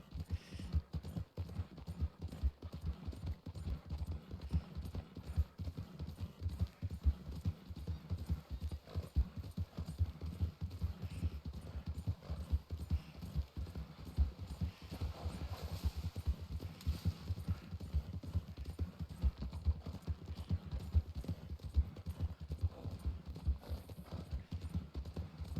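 Horse hooves clip-clop steadily and close up as a mount is ridden in a Wild West roleplay game, a fast continuous rhythm with an occasional whinny and no talking.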